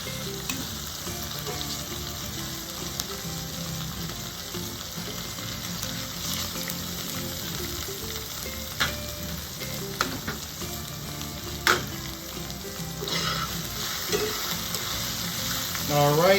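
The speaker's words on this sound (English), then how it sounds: "my steaks are seared. Now, what I'm gonna do is put them in this pan right here" Seared steak pieces frying in a pan for smothered steak and gravy, giving a dense, steady sizzle throughout with a few faint clinks, close and loud without talk.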